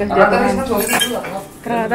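Plates and dishes clink and rattle amid broken glass in a kitchen, with sharp bright clatters close by and voices talking over them.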